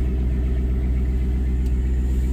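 A 2015 Dodge Charger with a shifter fault runs just after starting, giving a steady low engine rumble at idle that continues without a break, close by and moderately loud, with no talking.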